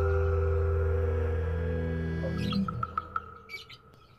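A single zebra dove calls with a short series of soft, evenly spaced notes, first heard under a fading low hum and then nearly alone.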